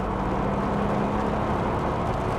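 A 400bhp Audi A5 launching hard with traction control off, its engine roar loud and steady throughout as the car accelerates.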